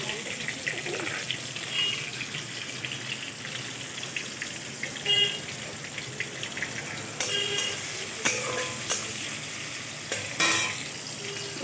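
Onions frying in hot oil with bay leaf, green and dried chillies and cardamom. A steady close sizzle runs throughout, with occasional clinks and scrapes of stirring.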